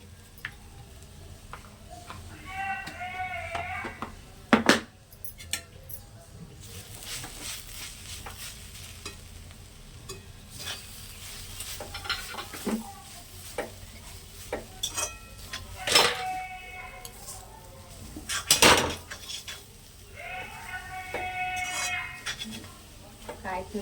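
Beetroot palya is mixed with grated coconut in a pan, with repeated scraping and clinking of a utensil against the pan over a faint sizzle and occasional brief sounds.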